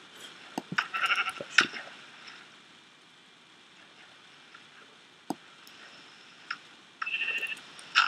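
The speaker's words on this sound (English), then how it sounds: "Sheep." Sheep bleating in the video game Minecraft, a few short bleats close up near the start and again near the end, with quiet gaps between them.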